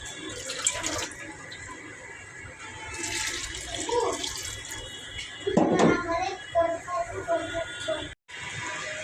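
Water poured into a pot of potato curry with fried fish, a soft continuous trickle and splash in a home kitchen, with a person talking over it throughout.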